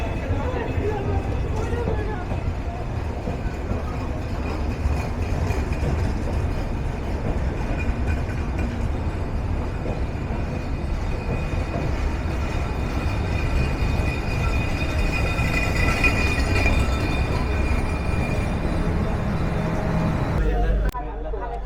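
Padma Express passenger train, packed inside and with many riders on the roof, rumbling steadily as it departs Ibrahimabad station in the evening, a loud continuous rolling roar with faint clatter and voices mixed in.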